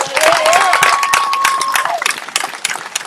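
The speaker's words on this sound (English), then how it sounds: "Give them a big hand." A crowd at a youth coalition march in Tuscaloosa, Alabama applauds the young organizers, with loud sustained clapping and cheers from a close crowd, with a whistle-like tone rising over the noise.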